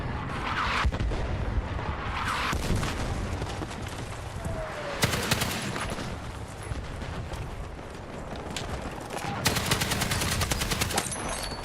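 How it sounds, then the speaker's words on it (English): Mortar fire in a war video game sounds as repeated heavy blasts and gunfire bursts, loud and dense, rising in clusters across the scene with little pause. "Fucking mortars!"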